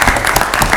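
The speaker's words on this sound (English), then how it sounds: "Give the Green Wave a round of applause." Applause at a parish council meeting, a dense, continuous patter of many hands clapping at close range, steady throughout the brief moment.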